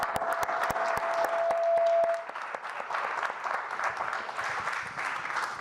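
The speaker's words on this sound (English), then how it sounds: "I would like to give you guys a round of applause" Applause from a room of listeners at a humanitarian media event, with a few sharp distinct claps at first swelling into steady group clapping that continues at moderate volume.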